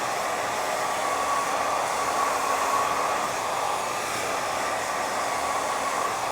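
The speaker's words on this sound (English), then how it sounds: "I'm constantly keeping the brush and the blow dryer moving." Hair blow dryer running continuously at full speed on high heat, a loud steady whooshing roar with a faint whine, unbroken and close throughout.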